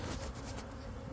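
Honey bees buzz in a dense, continuous drone as a colony is dumped into a new hive during a removal and relocation, with no talking over the hum.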